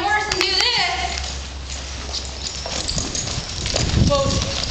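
Hooves of a ridden horse clip-clop through a riding lesson on stopping, a steady rhythm of near strikes mixed with other noise and children's voices in the background.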